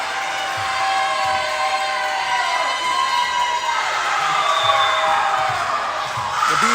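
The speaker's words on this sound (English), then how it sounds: "The Beeville crowd getting back in it." A crowd of spectators in a school gym cheers and shouts at a high school girls' volleyball match, a steady roar of voices held loud throughout the rally.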